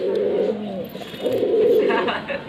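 Madrasi pigeons coo in a loft in Kolkata, two soft, throaty rolling coos close by, with a voice talking faintly in the background.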